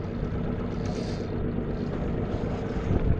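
A boat motor drones steadily while trolling for flathead, its broad rumble mixed with wind buffeting the microphone and a slight swell near the end.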